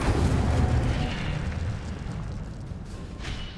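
Incendio fire spell cast in the Hogwarts Legacy video game, a roaring whoosh of flame with a rumbling low burst that fades over a few seconds and stands alone without talk.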